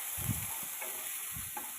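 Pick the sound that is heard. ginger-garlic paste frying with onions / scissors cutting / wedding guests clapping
ginger-garlic paste frying with onions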